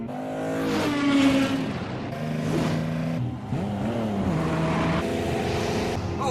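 A Datsun S30 Z sports car engine revving and accelerating through rising and falling gear pulls, loud and sustained, with a faint tire squeal.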